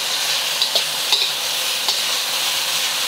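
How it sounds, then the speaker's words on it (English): Barbecue pork sizzles steadily in a hot pan for Singapore noodles, a close bright frying hiss broken by a few light stirring clicks and scrapes. "Next, we're gonna add our barbecue pork. We just want the meat to be heated through."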